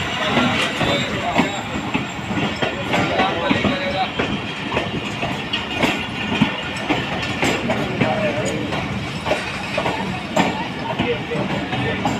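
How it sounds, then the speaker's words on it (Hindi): The Millat Express pulls into a station on the Rahim Yar Khan to Multan line, a loud steady rumble of passenger coaches with rhythmic wheel clatter and faint squeals, while people talk nearby. "जूं ही मिल्लत एक्सप्रेस आके स्टेशन हुई"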